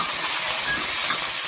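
Chicken legs hit hot oil in a wok already fragrant with star anise, Sichuan peppercorns, ginger and scallion, giving a steady broadband sizzle and hiss that stays loud and even, with no talking.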